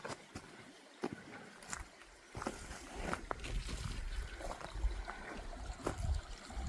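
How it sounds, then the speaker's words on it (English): Small streams trickle and run across open ground near Lewis Falls on the Meander River in Tasmania, a steady low watery wash beneath wind and scattered clicks and knocks, continuous and fairly near. "There's little streams running everywhere"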